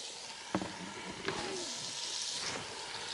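Food sizzles loudly as it drops into a hot camp oven while cooking chicken, leek and mushroom soup, a steady frying hiss with a couple of sharp thumps as pieces land.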